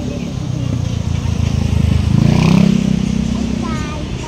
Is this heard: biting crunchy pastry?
no